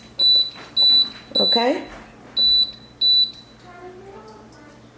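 A slow cooker's control panel gives five short, evenly spaced electronic beeps as its timer button is pressed, loud and close, followed by someone speaking briefly.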